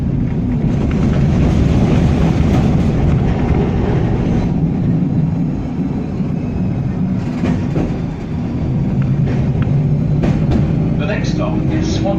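A W6 class tram rolling through Melbourne streets heard from on board: a steady loud rumble of wheels and motor with faint clicks and rattles over the rails and some muffled background noise.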